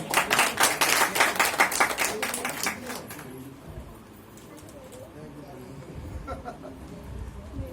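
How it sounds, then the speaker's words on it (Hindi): Audience applause at a Hindi-language speech event, dense clapping from a crowd for about three seconds, then fading into quieter room noise with scattered sounds. "उनके लिए जोरदार तालियां"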